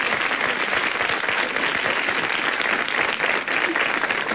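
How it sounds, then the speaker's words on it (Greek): A Greek television studio audience claps for a contestant named Vicky, a full and steady burst of applause that stays loud and unbroken throughout. "Ένα χειροκρότημα για τη Βίκη."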